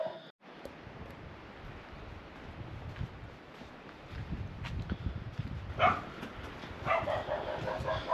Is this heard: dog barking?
yes